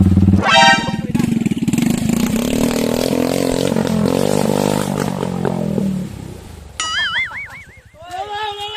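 A motorcycle engine revs loud and close while the bike ploughs through water on a Thai off-road trail, a sustained roar rising and falling for several seconds before cutting off, with voices calling out over and after it.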